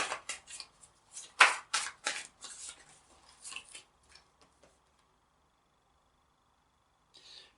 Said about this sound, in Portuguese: Vamos embaralhar direitinho.